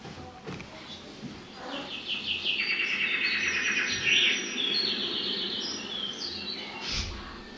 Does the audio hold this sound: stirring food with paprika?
no